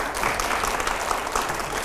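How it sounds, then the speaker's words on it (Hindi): A studio audience at a televised news debate bursts into a brief, loud, continuous round of applause. "जोरदार तालियां हो जाए जरा।"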